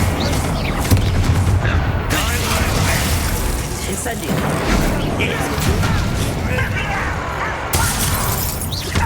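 A fire spell cast with a wand in Hogwarts Legacy bursts into roaring, crackling flame amid dense, loud game combat noise, with sharp impacts and shattering hits recurring throughout.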